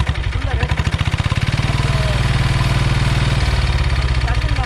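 A 1972 Bullet motorcycle converted to a diesel engine revs hard, its deep, rapid chugging thump rising from idle into a sustained loud roar, heard up close with no talk.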